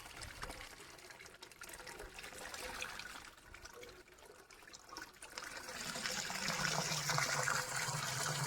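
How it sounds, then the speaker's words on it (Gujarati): Water pours and splashes steadily into a tank outdoors, a continuous rushing trickle that grows fuller and louder toward the end, with no talking over it. "આપણે હાલે છે ટાંકો ભરાય છે"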